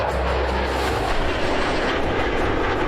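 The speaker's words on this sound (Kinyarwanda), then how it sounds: "kumva indege z'intambara nazo zabaye nyinshi cyane" Military warplanes in the Godzilla vs Kong film pass as a loud, continuous roar that holds steady throughout with no speech.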